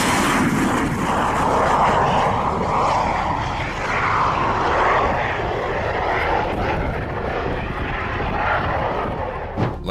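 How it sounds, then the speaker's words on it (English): A plane lands too fast, plows along the runway and fails, a steady loud roar of engine and rushing noise holding throughout with no speech. "The plane landed and plowed the runway, sending debris flying."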